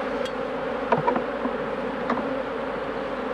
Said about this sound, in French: Là, ça butine bien.